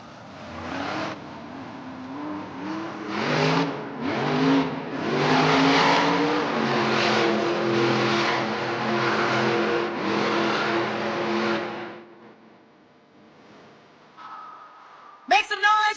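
The Earthshaker monster truck roars loudly in a Monster Jam arena event in Denver. Its engine surges through repeated revving bursts for about twelve seconds and then drops away, with crowd noise and an announcer-like voice in the background.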